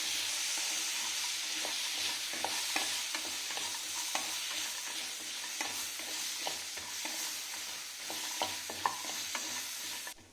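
Chilli idly with ketchup being sautéed in a pan: a steady broad sizzle runs throughout, broken by frequent sharp scrapes and clicks of a spatula stirring, fairly close and moderately loud, with no talk.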